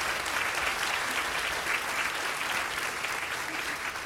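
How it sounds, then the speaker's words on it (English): An audience at a public art conference welcome session gives sustained applause, thick continuous clapping from many hands at a fairly loud, level volume throughout, no speech over it. "Could I just ask for a round of applause for them?"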